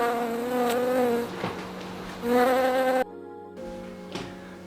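A bee buzzes loudly in bursts close by inside a room, its pitch wavering as it moves around, with short quieter gaps between flights.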